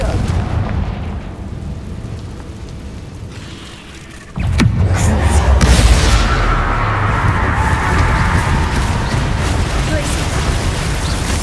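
The Confringo fire-blast spell in Hogwarts Legacy: a loud, booming burst erupts midway and is followed by a roaring, rumbling blast that carries on at high level over a continuous game soundscape.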